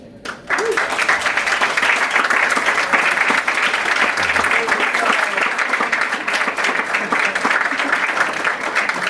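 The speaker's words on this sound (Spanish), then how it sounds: "que podamos reconocerlos con un aplauso" A large church congregation bursts into sustained applause, steady clapping that carries on loudly for several seconds.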